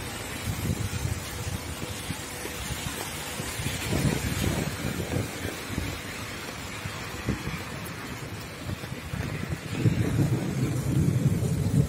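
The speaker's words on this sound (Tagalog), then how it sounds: "sobrang ulan." Heavy rain pours steadily on a grey, overcast midday, with low rumbles of thunder and gusts of wind buffeting the microphone throughout, swelling louder near the end; no one speaks.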